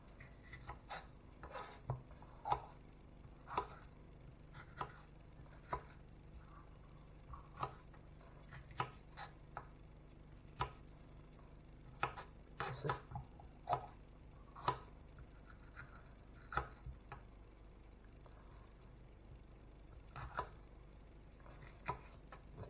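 Knife chopping red and green peppers into small squares on a board, a quiet run of sharp, irregular taps and clicks spaced through the clip, close and with no talking.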